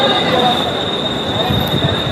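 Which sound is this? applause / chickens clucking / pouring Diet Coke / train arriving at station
train arriving at station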